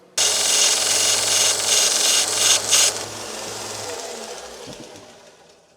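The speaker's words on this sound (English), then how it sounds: "just spin these once on the sanding wheel just to smooth them out" Loud, close grinding rasp of wood against a spinning abrasive wheel for about three seconds, then a fading whir as the machine winds down.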